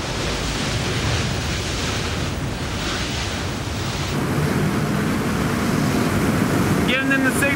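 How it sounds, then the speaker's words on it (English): Strong roaring wind rushing at near-hurricane force, a dense broadband howl that holds steady throughout and grows slightly louder partway in, with a brief whistling flutter near the end. "The wind speeds Beck is now experiencing could destroy a mobile home."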